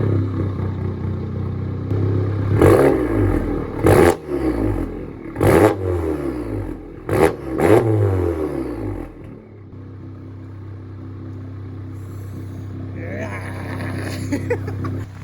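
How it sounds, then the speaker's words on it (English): An MK7 VW GTI / Golf R with an aftermarket turbo inlet, just after a cold start, gets several sharp throttle blips, loud close revs rising and falling, before settling into a steady idle rumble with faint talk near the end. "If it's warm enough, we'll get some spicy revs."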